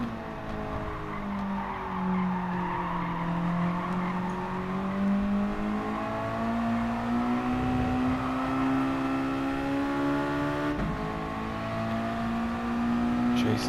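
A Mazda MX-5 race car engine in Gran Turismo Sport holds a steady, droning note that slowly rises and dips through gear changes, with tire squeal mixed in and a voice talking faintly underneath.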